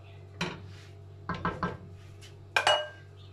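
Metal lid set onto a cooking pot holding rafissa with chicken: a few sharp clanks and clatters in quick succession, then a final ringing clang, close by with no talking.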